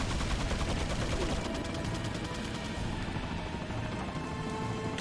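Turrets in a video game fire a dense, unbroken stream of rapid gunshots, loud and continuous for the full five seconds, with no clear talking over it.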